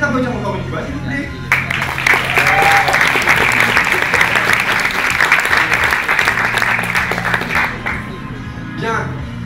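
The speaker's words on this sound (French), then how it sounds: "On peut les applaudir encore une fois, s'il vous plaît." Audience applause for the jury at a stage show, a dense, loud burst of clapping lasting several seconds, with a voice speaking before and after the clapping.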